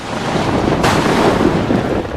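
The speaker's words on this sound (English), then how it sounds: "Yeah, it's windy too." Steady wind roars and buffets a microphone in the video game Outlast 2, with a sudden louder gust partway through a cold storm; no voices.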